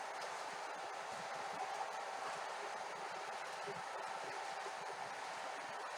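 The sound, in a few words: model train with three locomotives running on track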